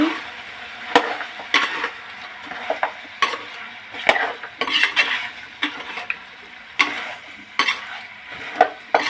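Goat head curry being stirred with turmeric in a pan, a spoon scraping and knocking against the metal in irregular strokes, with faint sizzling beneath and no talk.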